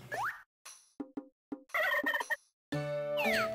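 Poultry calls from the Harvest Moon farming video game, a few short clucking and gobbling bursts followed by a longer warbling cry, loud and clear against silence.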